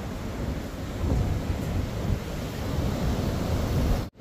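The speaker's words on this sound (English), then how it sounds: "It's getting louder, we're getting to the River Rapids." Roaring water of the Niagara River rapids, a loud, steady broadband rush that holds throughout and swells slightly toward the end, with no voices over it.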